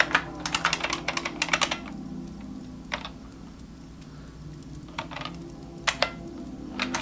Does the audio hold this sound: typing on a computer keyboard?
yes